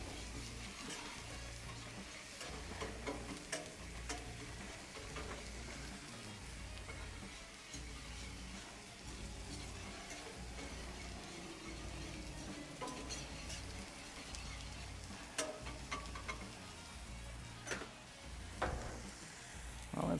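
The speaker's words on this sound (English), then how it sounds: "Go ahead and let that roux start cooking that flour taste off." A flour roux cooks on a Blackstone griddle, a faint, even sizzle with occasional light scrapes and clicks, no talking.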